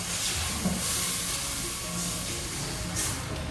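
A steady sizzle of milk poured into cooked butter in a hot pan, continuous hissing and frying noise with no talking, fairly even in loudness throughout.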